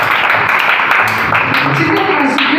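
An audience claps at a Sunday class prize-giving ceremony, a dense, steady wash of applause that carries on throughout, with a voice speaking over it.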